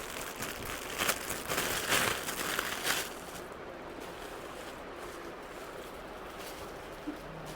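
A plastic package is torn open with crinkly rustling bursts over the first three seconds, followed by faint low background noise.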